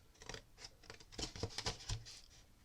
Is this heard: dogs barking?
no